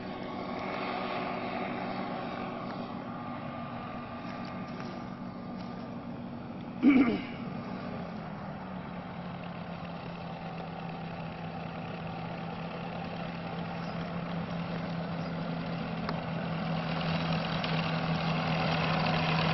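A microlight powered hang glider trike engine drones steadily at idle in India, with a brief loud burst around the middle before settling back into a constant propeller hum that swells slightly toward the end.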